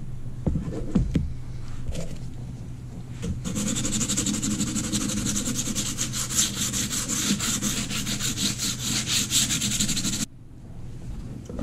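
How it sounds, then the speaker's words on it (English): Sandpaper rubbing along the edges of a wooden hydrofoil board makes a continuous rasping scrape in rhythmic strokes, close and steady for several seconds before stopping abruptly, with some handling knocks at the start. "Now all I'm going to do is just take that down with some sandpaper."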